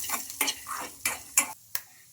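Chilies, peanuts, roasted gram dal and cumin being stirred in a pan, with several sharp scraping strokes of a spoon or spatula over a faint dry sizzle, quiet and close, no voices.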